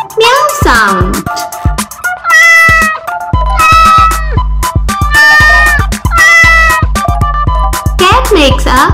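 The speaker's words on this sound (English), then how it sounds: "Cat makes a meow sound." Loud, close cat meows repeat in long, drawn-out cries, several in a row over a steady musical backing, with a voice at the start and end.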